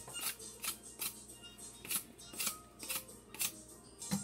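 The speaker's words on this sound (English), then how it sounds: "you take another knife and you just cut it down like this. This is how you take off that rough skin." A knife scrapes the rough skin off a green sugar cane stalk with a steady, regular rhythm. About nine crisp strokes fall roughly half a second apart, close and fairly quiet, with no talking.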